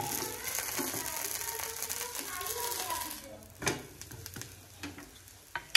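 Thalipeeth frying in oil in a pan: a steady close sizzle, then a flip followed by sharper scrapes and clicks as the sizzle thins out, with faint speech-like sounds mixed in.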